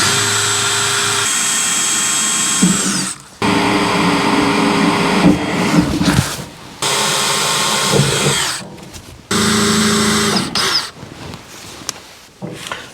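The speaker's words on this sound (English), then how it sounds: "So now we have our holes precisely drilled." A power drill with a 1/8 inch bit bores screw holes in a body panel of a 1955 Chevy Nomad, loud high whining bursts of a few seconds each, stopping and restarting close by, no talking.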